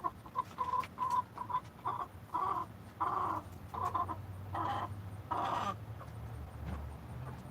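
Backyard chickens clucking and squawking in a series of short, sharp calls, fairly close and loud, with brief pauses between bursts.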